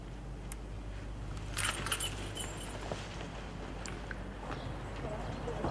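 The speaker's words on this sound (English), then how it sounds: "Here are my keys." A bunch of keys jangles with bright metallic clinks, loudest near the middle, under steady background noise where speech is also present.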